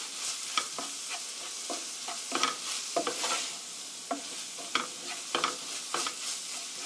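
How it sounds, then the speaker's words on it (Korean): Chili powder being stir-fried in oil in a pan for mapo tofu, with a steady sizzle under irregular scraping and clacking of a utensil against the pan, close and moderately loud, no voices. "이렇게 해서 볶아주세요"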